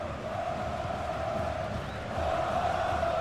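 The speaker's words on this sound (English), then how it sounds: "Well, just listen to this crowd." Stadium crowd noise from a cyber football video game in the AFC Champions League and CONMEBOL Libertadores, a steady roar that swells slightly louder toward the end.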